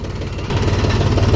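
A tractor engine runs steadily on a farm, a low mid-pitched diesel throb that grows louder about halfway through and holds at a close, even level with no talk.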